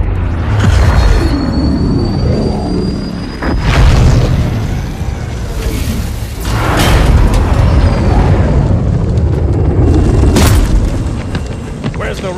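Rocket explosions in the Halo 2 video game boom loudly several times amid continuous battle noise, with a bright whistling streak and a dense low rumble throughout.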